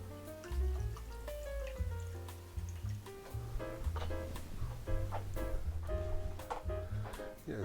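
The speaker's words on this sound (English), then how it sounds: "we'll give them a bit of water" Water poured from a watering pot into a small pot of daffodil stems, a close trickling and gurgling pour with shifting bubbly tones that runs steadily for several seconds without speech.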